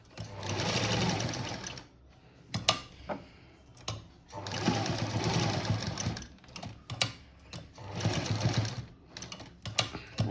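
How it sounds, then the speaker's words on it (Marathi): A domestic sewing machine stitches a cutwork blouse sleeve in steady whirring bursts of a few seconds each, broken by brief pauses, loud and close. "अशा प्रकारे शिवून घ्यायचं"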